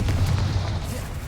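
In Hogwarts Legacy, a Confringo blasting spell lands as a dense, rumbling explosion that fills the whole moment. The low, sustained boom stays loud throughout.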